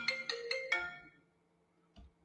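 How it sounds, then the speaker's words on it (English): A phone ringtone chimes as an incoming call arrives, four bright tones in quick succession followed by a faint single tone near the end, fairly quiet with no talk. "Hold on, I'm getting a phone call."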